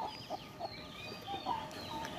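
A mother hen clucking softly to her chicks while showing them how to feed, repeated low clucks at a steady pace over faint high peeping, quiet and without talk.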